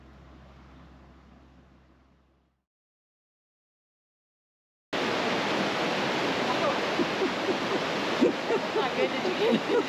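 Waterfall at Fall Creek Falls State Park, Tennessee: a dense, loud rushing roar of falling water that starts abruptly after a quiet gap, preceded by a faint noisy stretch.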